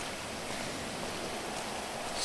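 Rain pours in the video game GTA San Andreas while walking across Los Santos: a loud, steady, hissing downpour that fills the whole stretch without pause or voices.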